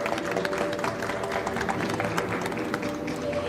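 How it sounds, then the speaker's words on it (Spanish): An audience applauding to welcome a moderator at a book fair science talk, a continuous roll of many hands clapping, moderately near, with faint crowd murmur underneath. "recibámoslo con un fuerte aplauso"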